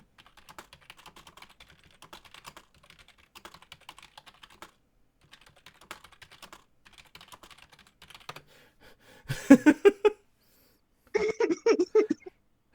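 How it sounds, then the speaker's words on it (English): Typing on a computer keyboard during a game stream: light, scattered keystroke clicks in short bursts, followed near the end by a couple of louder, brief vocal noises. "I'm literally typing to people just like get in a call and play Monster Prom with me."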